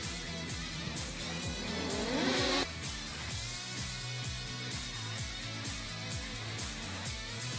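Off-road race trucks in a Lucas Oil Off Road regional round at Glen Helen roar as they accelerate at the green flag, a loud, dense engine drone with rising revs and a brief harsher surge early on.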